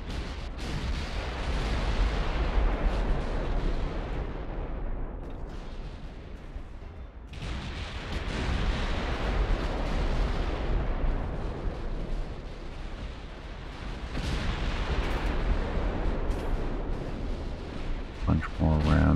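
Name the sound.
naval artillery shell fire from video game Ultimate Admiral: Dreadnoughts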